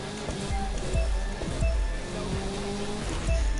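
A sports car in The Crew 2 revs hard for a drag-style run, a loud, continuous engine roar with rising and falling pitch sweeps as it shifts, set against a steady noisy background.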